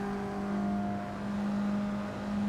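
A Mazda MX-5 race car pulling at full power down the Lime Rock straight at about 95 mph, a steady high in-cabin engine drone with a constant tone and no break or voice over it.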